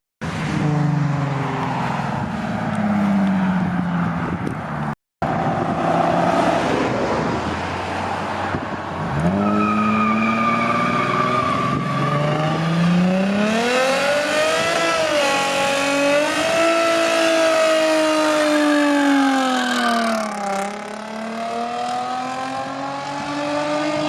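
A Lexus IS350 engine revs hard and loud during a tire burnout, its pitch climbing and falling in sustained sweeps as the car holds at high revs, with a brief cut near the start.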